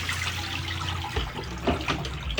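Running water splashes and gurgles as an aquarium canister filter sponge is rinsed, loud and close, with a few sloshing bursts over a steady stream.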